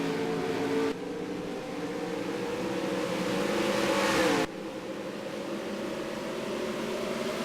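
Race cars lap a track during a practice race, a loud, steady engine drone that shifts pitch as cars pass, with abrupt changes in level and no voices.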